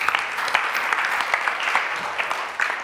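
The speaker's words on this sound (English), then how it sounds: "Another round of applause." Audience at a professional chapter presentation gives a round of applause, steady fairly light clapping from a modest group, with individual claps distinct throughout.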